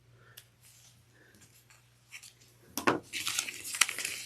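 Scissors snip loose sewing threads on a stitched drawstring satchel, a few faint quiet snips early, then sharper close crisp cuts and rustling toward the end.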